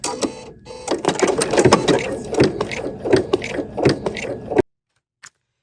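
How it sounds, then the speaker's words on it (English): An embroidery machine stitching a tic-tac-toe grid in light thread, a close, rapid mechanical clatter of needle strokes with ratcheting ticks that stops abruptly, followed by a single faint click. "Now I'm ready to stitch it out."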